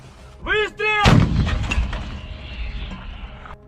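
A heavy artillery or mortar blast booms nearby in the trenches of Bakhmut, a single loud concussive thud with a long rumbling tail, preceded by a brief whistling tone.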